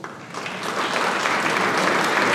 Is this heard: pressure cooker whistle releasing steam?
no